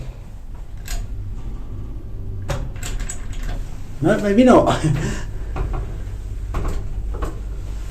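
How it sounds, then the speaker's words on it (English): Doors opened and closed in a building in Prague, several knocks and clunks with a rattling latch in the middle, close by, with a person talking between them. "Okay, so let's open this door."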